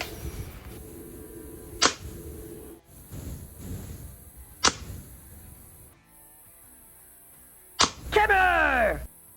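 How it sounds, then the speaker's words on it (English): A Crosman M4 multi-pump airgun fires a five-shot group at a 10-yard target: several sharp, isolated cracks spaced a few seconds apart over a steady low background, with a whining, sweeping noise at the end. "Now a 5-shot group at 10 yards."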